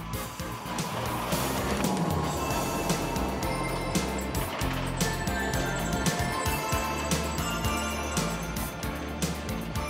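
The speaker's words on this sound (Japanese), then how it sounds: "陸上自衛隊で開発中の高機動車。" A Japan Ground Self-Defense Force high mobility vehicle, a ten-seat model under development with a top speed above 100 km/h, drives with a steady, loud engine and road rumble that holds without a break throughout.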